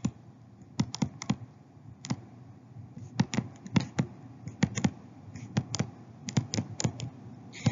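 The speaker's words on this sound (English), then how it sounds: "When you are typing the problem in on the calculator, you must use parentheses." Calculator keypad buttons pressed by hand while entering a scientific-notation addition problem, giving close, quiet clicks in irregular bursts and short runs with brief pauses between them.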